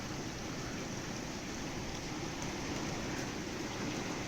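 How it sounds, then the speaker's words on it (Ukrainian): Steady, dense rainfall hisses continuously, with a low rumble underneath that could be distant thunder. "Як добре, що падає дощик. З громовицею."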